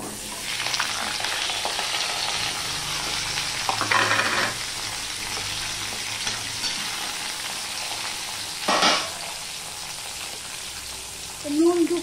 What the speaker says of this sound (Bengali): এবারে আমি এই কাঁকরোলগুলো ভেজে নেবো আগে।